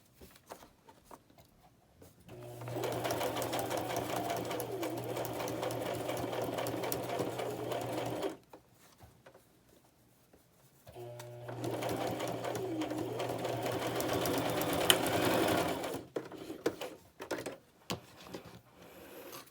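A sewing machine stitches fabric pockets and ruffles for a pamphlet-stitched journal, running in two steady bursts of several seconds each, with quiet pauses and small handling noises between them.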